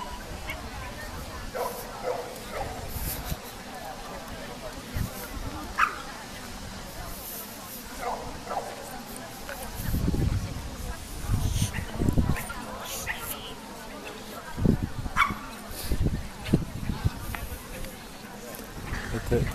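Small dogs yip and bark intermittently in a ring for smaller breeds at a regional dog show in Příbram, mixed with crowd chatter and people talking nearby throughout.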